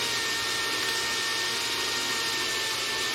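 A popcorn popper roasting coffee beans, fitted with bearings and a shaft, gives a steady, loud broadband whir of fan and hot air that runs without a break and with no voices over it.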